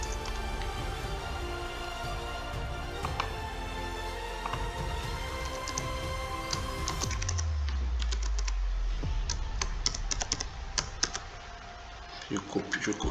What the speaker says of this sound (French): Puis j'entre mon mot de passe.